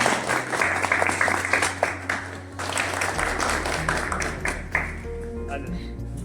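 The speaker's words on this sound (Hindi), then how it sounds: "ताली बजा सकते हो" Crowd clapping at a political rally in Uttar Pradesh, scattered applause from many hands mixed with voices and a low amplified hum, rising and fading unevenly over several seconds.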